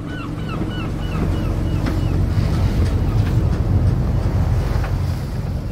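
Lifeboat SNS 129 heads out from the Fort-Louis marina on Saint-Martin, engine rumbling low beneath constant wind buffeting and splashing surf, with a few faint bird chirps early on.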